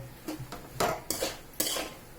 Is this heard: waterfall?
no